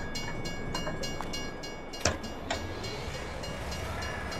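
Railway wagons being loaded in the farming game Farming Simulator 22, heard as a steady mechanical rumble with a sharp clank near the middle and a softer knock after it, and no talk.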